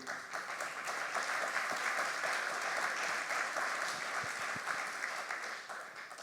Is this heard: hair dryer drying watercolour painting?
no